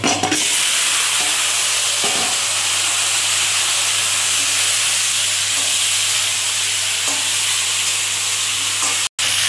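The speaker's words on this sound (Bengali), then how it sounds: "এবার আমি কপিগুলো সব ভাজবো।" Cauliflower florets frying in hot oil, cooked for a bhetki fish curry, give a loud, steady, close hiss that holds almost unbroken, with a few faint knocks underneath.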